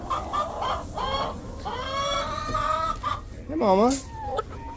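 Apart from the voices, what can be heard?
hens clucking at a chicken ranch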